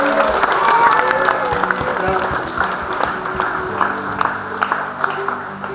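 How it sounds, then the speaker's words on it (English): An audience at a rural training awards night claps for students, with voices over the start and steady applause continuing underneath. "big round of applause for these two"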